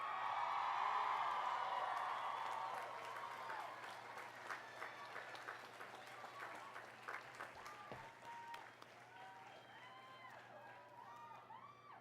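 Sustained applause from a large audience at a college commencement, loudest at the start then gradually thinning, with scattered voices and a few whoops as it fades.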